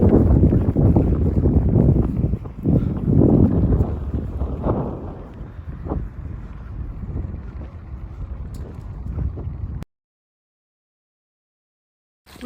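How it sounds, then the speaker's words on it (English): Strong wind buffets the microphone outdoors on the open expanse of Tempelhofer Feld in Berlin, a loud continuous rumbling roar with gusty swells for about ten seconds before cutting to silence. "And it's really windy."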